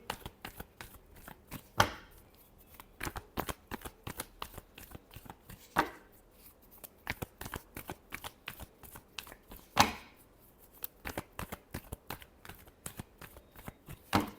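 Tarot cards shuffled by hand during a Scorpio reading, with three louder riffling bursts near the start, middle and end and softer card taps and slides in between; no one talks.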